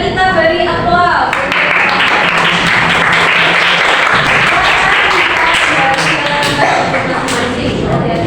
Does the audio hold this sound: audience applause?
yes